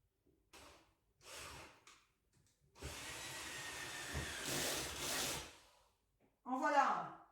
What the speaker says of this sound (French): je vais venir avec ma visseuse